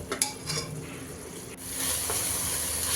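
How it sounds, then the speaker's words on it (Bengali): Vegetables being stirred as they fry in a pan for a home-cooked lunch, with a steady sizzle, scraping spatula clinks against the metal, and a brief clatter before the frying swells louder. "ভাজিটা নাড়াচাড়া করে দিচ্ছি।"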